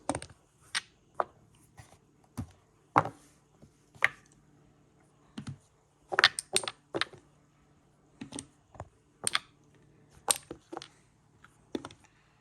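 Sharp wooden clicks and clacks of backgammon pieces being placed on a Casa Aries board, irregular taps with some quick clusters, close and clear with no talking.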